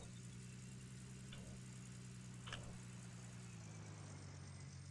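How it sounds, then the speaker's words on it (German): In Gold Rush The Game a vehicle's engine runs at a faint, steady idle, a low hum that holds evenly throughout, with a couple of small clicks. "So, ich fahre den Wagen."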